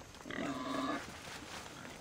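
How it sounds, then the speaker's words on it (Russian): Wild boars in the video game Assassin's Creed Odyssey let out a single drawn-out grunting squeal lasting under a second, moderately close, followed by a fainter grunt. "О, кабаны дикие."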